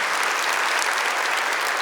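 A congregation at a church prayer gathering bursts into dense, sustained applause that stays loud and even throughout, with no voices over it.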